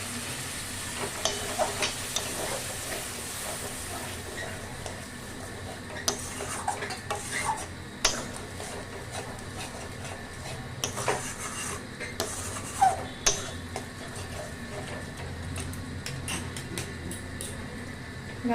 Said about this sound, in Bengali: এর মধ্যে একটু জল দিয়ে দিয়ে এটাকে মশলাটাকে ভালো করে আমি কষে নেবো